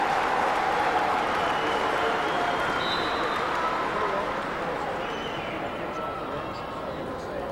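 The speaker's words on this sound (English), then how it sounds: "And they get a nice hand from the Ortonville cheering section." A high-school basketball crowd, the Ortonville cheering section at a state tournament consolation game, gives steady applause and cheering that fills the arena and slowly fades, with an announcer talking over it.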